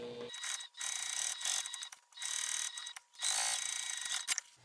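A sewing machine stitches around a cork crossbody bag piece in three loud, close bursts of rapid mechanical clatter, separated by short pauses.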